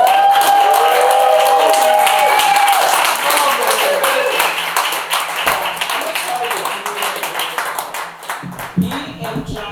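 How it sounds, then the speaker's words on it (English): An audience claps and applauds steadily at a lifetime achievement awards ceremony at Boricua College in New York City. The applause is loud at first and tapers off toward the end, with a voice heard over it. "Please give a round of applause for Mr."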